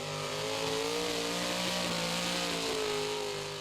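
A Dodge pulling truck accelerating off the line at a truck pulling event, a steady, distant engine roar with rising harmonic drone, sustained for several seconds over crowd ambience.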